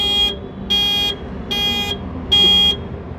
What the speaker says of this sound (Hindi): तो ये इसका कार का अलार्म ऑन हो जाएगा।